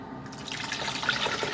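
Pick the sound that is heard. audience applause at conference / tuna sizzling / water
water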